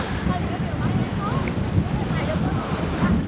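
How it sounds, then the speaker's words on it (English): Strong wind on an observation deck overlooking the water at Haeundae Beach, Busan, buffeting the microphone in a continuous low rumble with waves faintly beneath, no one speaking. "Fucking windy as shit though."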